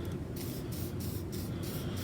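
WD-40 lubricant hisses steadily from an aerosol can onto the rollers of a metalsmithing rolling mill, a close continuous spray with slight pulsing.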